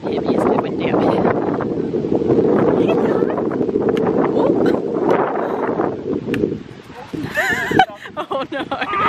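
Gusty wind buffets the microphone with loud low roaring, while a person talks over it; the rumble eases near the end.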